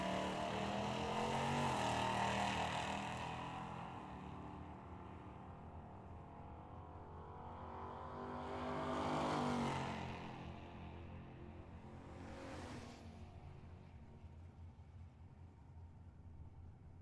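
Drag racing at Tucson Dragway, a 1977 Oldsmobile and a 2002 Chevy S10 launching side by side, engines roaring past then fading into the distance, with a second swell of engine noise partway through, heard from trackside.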